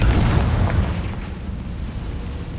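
A Confringo fire spell bursts in Hogwarts Legacy as a loud, close, deep boom that rumbles heavily at the start and slowly fades over a couple of seconds, with no talking.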